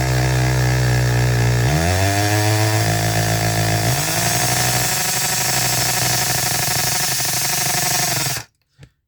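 A loud power drill whines continuously, its pitch stepping up twice as it bites into molded resin, then cuts off abruptly near the end.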